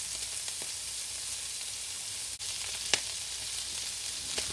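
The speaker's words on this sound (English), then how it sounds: "So we're going to let the bacon cook for a bit." Bacon with finely chopped shallots sizzling in a pan, a soft continuous crackle and hiss with a few sharp pops and a light utensil tap.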